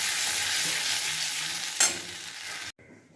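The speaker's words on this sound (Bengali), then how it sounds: "এবার এই তেলের মধ্যে দেবো ছোট্ট এলাচ, একটু দারচিনি" Cardamom and cinnamon sizzle loudly in hot oil left from frying prawns, a dense close hiss with a brief sharp crackle near the end before it suddenly cuts to quiet.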